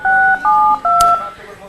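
Telephone keypad dialing tones, three distinct dual-tone beeps in quick succession while calling a switchboard, heard clearly with a brief click midway.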